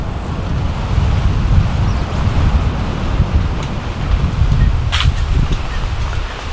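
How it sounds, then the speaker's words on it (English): Strong wind roars across Kalalau Beach with breaking surf beneath, a loud, steady low rumble buffeting the microphone, with no talking. "It is windy as balls."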